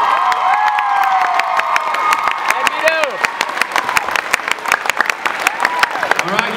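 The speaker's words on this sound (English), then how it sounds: "let's give all court members another round of applause" High school audience at a Winterfest court ceremony bursts into loud, sustained applause and cheering, with dense clapping, whoops and shouts filling the room throughout.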